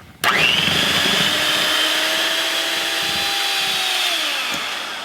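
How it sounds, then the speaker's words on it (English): A blender starts abruptly and runs at a high, steady whine for several seconds, its pitch dipping slightly near the end. "get our blender put on high speed and start blending this"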